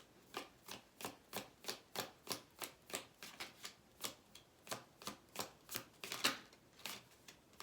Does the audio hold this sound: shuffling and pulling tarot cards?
yes